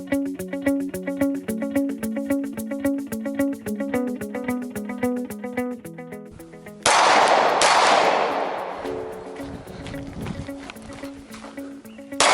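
A Glock 17 pistol fitted with an RMR sight fires a rapid string of sharp shots outdoors on a range, the cracks packed closely together before a louder blast and ringing decay, with scattered further shots trailing off.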